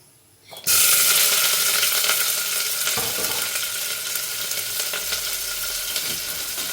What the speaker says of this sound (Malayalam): ഈ ഓയിൽ ഒഴിച്ച കുക്കറിലേക്ക് നമുക്ക് കുറച്ച് സവാള ഇട്ട് കൊടുക്കാം